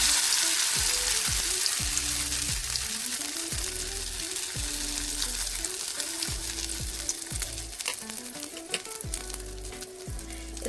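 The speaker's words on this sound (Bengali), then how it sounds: "এবার এটাকে ছোট ছোট বড়ার মতো ভেজে নেব।" Lentil and cauliflower fritters fry in hot oil in a pan, a steady loud sizzle and crackle running throughout with no voices.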